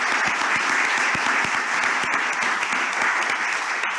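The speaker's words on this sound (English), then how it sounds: "I want to give a big clap to the team." Steady, dense applause from the audience at a business competition awards ceremony, honoring the team, loud and continuous throughout with no talk over it.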